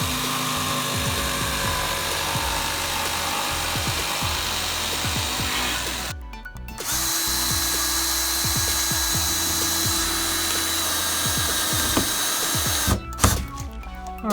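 Power drill driving screws into wall paneling during a custom Sprinter van conversion, a steady whirring drone with repeated short pulses, close and continuous, briefly cut twice.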